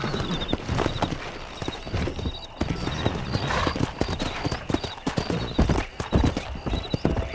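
Horse hooves clip-clopping at a steady riding gait in the game Red Dead Redemption, close and loud, with occasional neighs and whinnies over a busy outdoor background.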